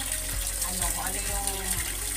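A shower runs with a steady, close hiss of spraying water, while soft low thumps recur about every half second beneath it.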